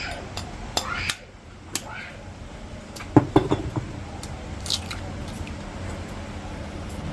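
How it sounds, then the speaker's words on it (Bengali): Several eggs are cracked open one after another at home for egg dalna, a few sharp close taps and squishy breaks spaced across the stretch, with faint background noise. "এই যে ডিমগুলো ফাটানো হচ্ছে"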